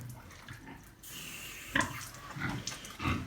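A pregnant sow grunts several times in short, low snorts spaced a second or so apart, close up over a noisy background.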